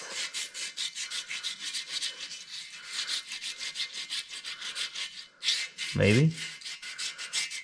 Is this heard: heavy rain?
no